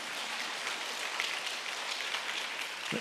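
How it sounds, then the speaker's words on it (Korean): A church congregation at a Wednesday QT worship service applauds during the sermon. The clapping is soft, dense and steady, heard from a distance and lasting the whole moment. "여기서 박수를 치시면 아니 되옵니다."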